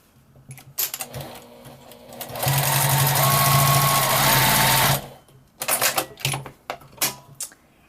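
A sewing machine stitches across the bottom of a simple fabric Christmas tree ornament, running loud and steady for a few seconds between shorter bursts of stitching.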